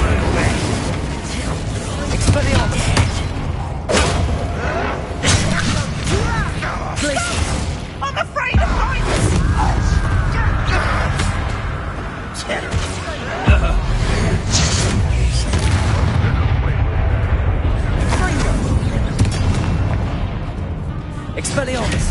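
Confringo and Incendio spell blasts in Hogwarts Legacy go off as loud, dense fiery bursts and booms throughout a chaotic duel, with voices shouting over the din.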